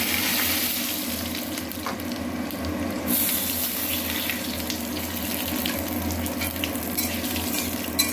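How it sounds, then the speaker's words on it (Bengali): Whole spices (dried chillies, whole garam masala, bay leaves and cumin) sizzle and crackle in hot oil close by, a steady frying hiss with occasional stirring scrapes and pops. "মশলাগুলো ভাজা হচ্ছে।"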